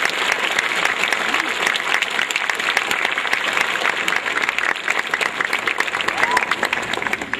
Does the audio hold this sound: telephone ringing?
no